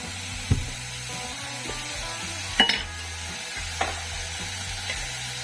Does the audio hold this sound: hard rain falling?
no